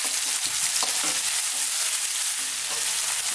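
Garlic ginger paste fries in a pan for a vegan red lentil dal, a steady bright sizzle running throughout with soft scraping strokes of a spoon stirring it at close range.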